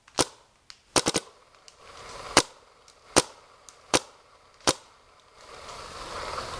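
A Planet Eclipse Geo2.1 and a Macdev Clone VX paintball marker fire sharp, loud pops outdoors, a quick cluster of three then single shots spaced about a second apart.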